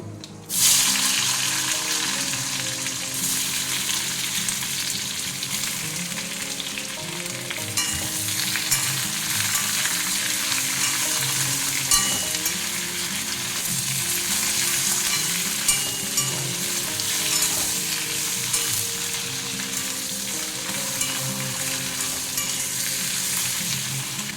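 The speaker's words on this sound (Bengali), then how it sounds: "এবারে কামরাঙাটা একটু ভেজে নেবো" Star fruit frying in hot oil with a dried red chilli and panch phoron, a dense continuous sizzle that holds steady and close for the whole stretch, with no voices.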